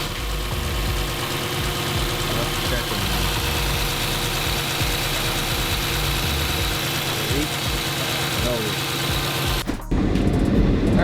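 A 6.4 Hemi V8 idles steadily and loudly close by after a thermostat replacement, a continuous low rumble throughout, with a brief shift in tone near the end.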